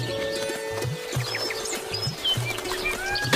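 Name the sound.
flock of birds chirping as they fly away, cartoon story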